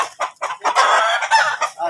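Several chickens cluck in a noisy, busy burst of overlapping calls, loud and close, with no talk over them.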